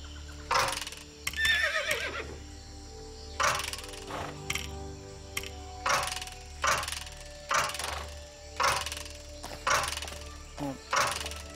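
A LEGO Worlds horse whinnying again and again, bright game neighs in regular bursts over a low hum, with a few wooden knocks between them.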